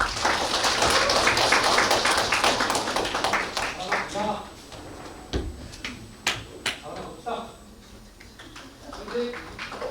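A seated audience at a university social welfare department academic event claps for the next presenter: dense, fairly close applause that fades after a few seconds into scattered claps and quieter room noise.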